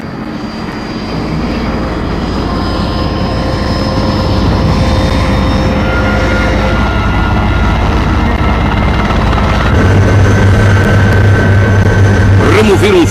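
Portuguese Air Force military helicopter in flight over Angola, a steady loud engine and rotor drone holding throughout with a slowly rising level, heard close and alone.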